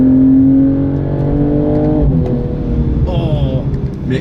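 A 2022 BMW M240i xDrive revs while driving, its engine note piped through the Active Sound system. A steady low drone holds under faint talk, then rising harmonic sweeps climb near the end.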